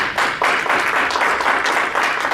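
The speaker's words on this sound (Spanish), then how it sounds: "¿Cuánto le dan un aplauso al Señor?" A church congregation claps during a Spanish-language sermon, giving dense, continuous applause with no voices on top.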